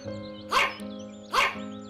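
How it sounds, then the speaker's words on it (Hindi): Dog barking in a cartoon story scene, two loud close yips about a second apart, each with a whimpering tail, over a soft steady background hum. "सामने से एक कुत्ता उनके पास आ जाता है और उनके खाने की पोटली की तरफ भौंकने लगता है"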